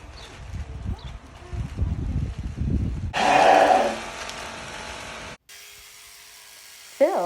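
Electric clippers shear a sheep's wool on a small farm, buzzing steadily for about two seconds after a stretch of rustling and animal noises, then cutting off.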